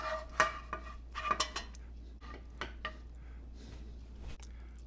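Potatoes, mushrooms and onions being plated with serving utensils, with a few sharp clinks and scrapes of metal on dishes at first, then softer scattered taps over a low steady hum.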